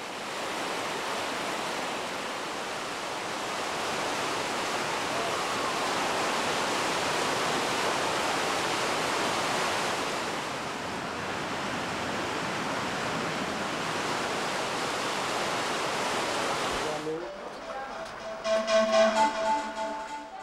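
Streams pouring into Lake Arenal in Costa Rica, a steady broadband rush of flowing water that holds for about seventeen seconds before cutting to a quieter passage.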